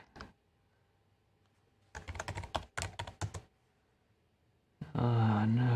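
Password keystrokes on a computer keyboard while setting up an offline Windows account: a quick cluster of close, crisp clicks after a brief tap, then a voice speaks at the end.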